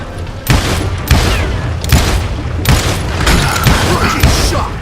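Gunshots in the Western shooter game Call of Juarez: Gunslinger, a series of loud, close booming blasts roughly every half second to second, each with a ringing tail, under faint shouting.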